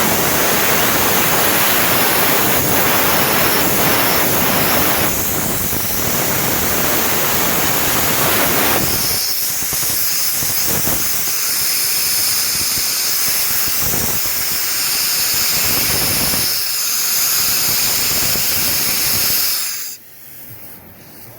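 Steady breathy hiss of air blown across the carburetor vacuum tubes on a Yamaha Raptor 660 ATV, loud and continuous for about twenty seconds before cutting off abruptly.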